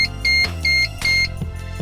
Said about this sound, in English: Successful pairing is confirmed by a blink and a beep from the remote